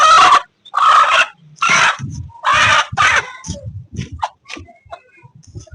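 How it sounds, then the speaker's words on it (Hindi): A hen gives loud, close squawking calls in several bursts of about half a second, then shorter, softer clucks trail off. "ये रही हमारी मुर्गी।"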